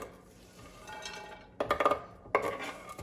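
Freshly chopped onion goes into a pan with a spoonful or two of olive oil, with quiet background hiss and then a short cluster of close metallic clatters and a single clink of utensil on pan, no voices.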